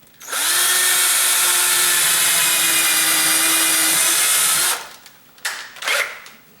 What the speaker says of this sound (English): And I'm going to just pre-drill that.